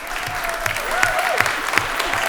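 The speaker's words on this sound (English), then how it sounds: "Well, let's give them all a round of applause." Audience applause rings out at a school committee meeting, steady clapping from a crowd with a few sharper claps standing out and a faint tonal whistle or squeak running beneath it.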